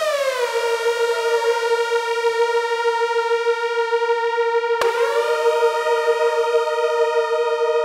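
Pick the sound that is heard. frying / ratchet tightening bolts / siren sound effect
siren sound effect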